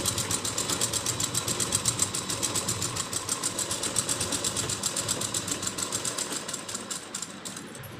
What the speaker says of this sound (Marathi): सुई खाली ठेवायची तर तसंच चालू ठेवायचं शिलाई मारायची